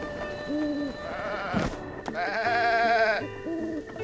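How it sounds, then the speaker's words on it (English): A goat in The Legend of Zelda: Breath of the Wild gives several loud, wavering, human-like bleats in quick succession, heard near and clear over game background sound. "that goat just sounded like a human pretending to be"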